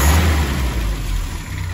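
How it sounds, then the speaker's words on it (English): The engine of a 1966 Triumph Herald 12/50 runs loud and close with a rough, steady drone that swells slightly as if revved. "It's a nice little engine."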